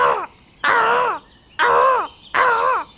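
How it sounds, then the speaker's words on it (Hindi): A crow perched in a tree caws again and again to its mate, four loud, harsh, drawn-out calls in an even rhythm with short pauses between, close and clear with nothing else heard. "तभी थियो कौवा पेड़ पर बैठ के लगातार अपनी साथी को बुला रहा था"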